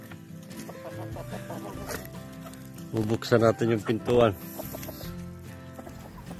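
Rhode Island Red chickens clucking close by on a farm, with a burst of louder squawking in the middle while someone speaks briefly.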